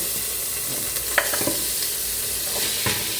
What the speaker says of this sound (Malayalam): അതിനകത്തോട്ട് ഈ ഇറച്ചി ഇടുക,